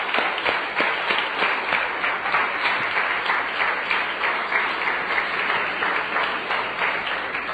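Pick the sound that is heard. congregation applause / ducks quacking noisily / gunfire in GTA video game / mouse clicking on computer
congregation applause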